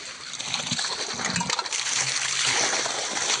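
A steady rush of water spraying from a hose and splashing against a hard surface, close and continuous, with a few faint knocks underneath.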